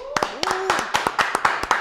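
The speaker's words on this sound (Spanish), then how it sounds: "Un fuerte aplauso." Scattered, uneven hand claps from a small audience greet guest Yamil Maldonado on a talk show, about a dozen sharp claps over a couple of seconds with a voice speaking over them.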